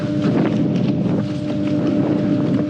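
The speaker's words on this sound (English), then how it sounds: "the wind picked up" Strong wind blowing across a lake from a fishing boat, a loud, steady roaring rush buffeting the microphone with no one speaking.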